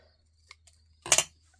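Scissors snip through paper while a card is being made: a few light ticks, then one crisp, close cutting snip, alone in a quiet room.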